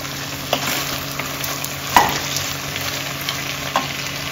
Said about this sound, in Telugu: చిక్కుడుకాయలు మాత్రం బాగా వేగాలండి